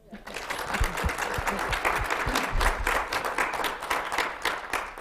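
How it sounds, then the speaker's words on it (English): Round of applause from a colloquium audience, a dense burst of many hands clapping that rises quickly and holds steady, close and fairly loud, with no voices over it. "Karyn, we'll give you a round of applause first."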